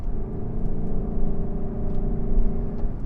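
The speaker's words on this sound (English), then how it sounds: "But you still get to have fun because it's got this amazing V8 engine." A Lexus LC500's V8 engine gives a deep, steady, throaty rumble heard from close up, holding an even drone throughout with no talk over it.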